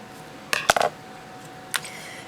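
Scissors snip through the end of seam binding at a work table, a few quick metallic clicks close together followed by one more snip a second later, sharp and near against a quiet room.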